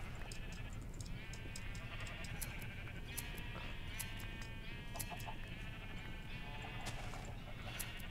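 Sheep bleating in Minecraft, several wavering bleats overlapping across the stretch against a noisy background, with a few sharp clicks, moderately quiet and without talk.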